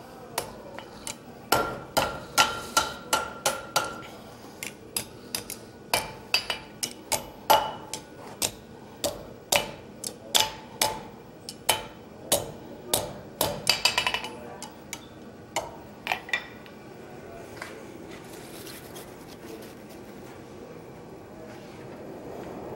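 A blacksmith's hammer strikes an anvil again and again at a conference demonstration, sharp ringing metallic blows in irregular bursts, close and loud, then tapering off into quieter background noise.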